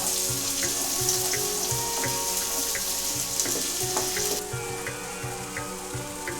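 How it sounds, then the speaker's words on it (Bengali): Onion paste frying in a pan gives a steady, close sizzle with a faint watery hiss, running throughout and easing slightly toward the end, with no talk. "এবার দিচ্ছি পেঁয়াজ বাটা"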